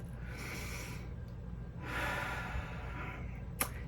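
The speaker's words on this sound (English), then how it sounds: "let's take a deep breath" One person takes a slow, deep breath in a quiet room, two soft airy inhalation and exhalation swells close to the mic, followed by a small sharp click.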